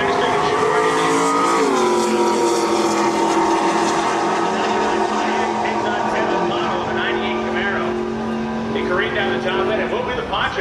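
A street-class car at a New England drag strip rolls up with a steady, loud engine drone that dips in pitch early, then holds and fades slightly, heard under an announcer's commentary.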